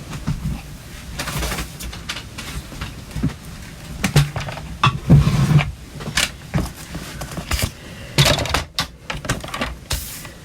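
Cardstock is trimmed on a paper trimmer for a stamped card, with repeated scraping slides of the blade, clicks and handling rustles in an irregular sequence, fairly close and with no talking.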